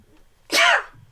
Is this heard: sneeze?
yes